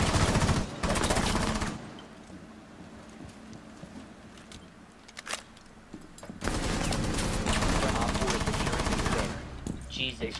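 Heavy automatic gunfire from the Rainbow Six Siege video game, loud sustained bursts of rapid shots with a quieter stretch of scattered single shots between them.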